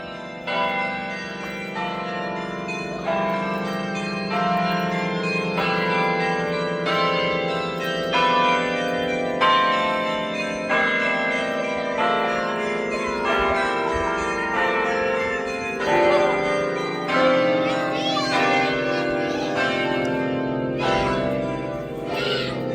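Bells ringing in the Chimes Tower at Longwood Gardens in Kennett Square, Pennsylvania: a continuous, loud cascade of overlapping pealing strikes with rich ringing overtones, heard up close.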